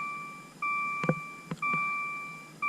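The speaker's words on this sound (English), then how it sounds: "close the door so you don't hear that beep" A 2017 Maserati Ghibli's door-open warning chime beeps repeatedly in a fast, even pattern, briefly interrupted by a few soft clunks and thumps.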